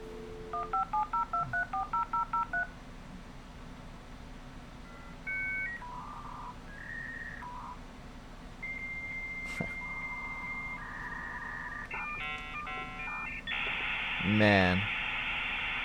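Dial-up internet modem connecting: a burst of DTMF dialing beeps, then sparse steady tones and pitch shifts, building into harsh hissing handshake screeches and a sweeping warble at the end, loud and alone without talk.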